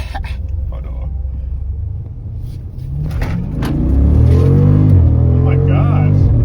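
Jeep SRT engine rumbling at idle, then revving up into a deeper, louder roar that holds through the second half, heard up close with people talking near the vehicle.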